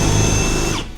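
A power drill bores out spot welds on a second-gen 1994-2002 Dodge Ram fender, a loud, close, steady whine that winds down abruptly near the end of a single short burst.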